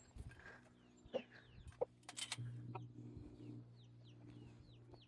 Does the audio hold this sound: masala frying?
no